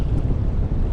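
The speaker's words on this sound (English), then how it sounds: "The wind is blowing." Wind buffets steadily over open Gulf Coast water beside a fishing boat, a loud, constant roar with no breaks or talk.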